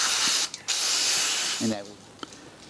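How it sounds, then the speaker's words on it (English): Degreaser sprays onto a part of a David Brown tractor engine in bursts of close, loud hissing, with a brief break near the start and a short trailing squirt, followed by a quieter tail with a faint tap. "So I'm just gonna use a kind of a degreaser, just to degrease it."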